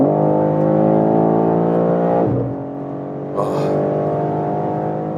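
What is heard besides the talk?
BMW M3 Touring 3-liter inline six engine accelerating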